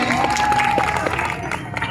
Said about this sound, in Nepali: एकचोटि ग्रेस इन्टरनेसनलको लागि जोरदार ताली